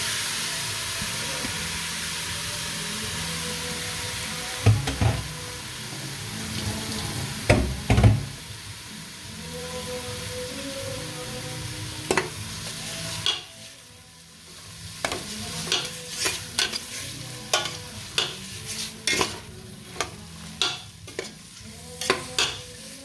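Marinated beef sizzles steadily in a pan with tomato paste for a Filipino kalderetang baka, with a loud frying hiss broken by repeated scraping and clattering stirs of a utensil against the pan.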